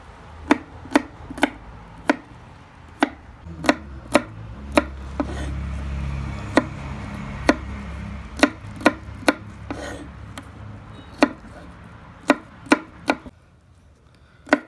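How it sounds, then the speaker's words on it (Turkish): A knife chops garlic for Hatay-style Belen tava on a cutting board, sharp close taps coming in quick irregular bursts, with no voices. "Sarımsaklarımızı güzelce doğrayalım."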